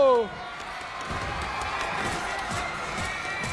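A crowd cheers and shouts in a large echoing space at a Free Fire mobile esports finals, a steady roar of many voices with scattered thumps, after a brief whistle-like tone.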